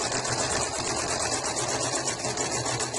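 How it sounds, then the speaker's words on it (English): A sewing machine runs continuously for paper piecing, stitching fabric along a line with a steady, even mechanical whir that stays close and unbroken from start to finish, with no talking over it. "Starting on the dotted line, back stitching, stitching all the way down the solid line"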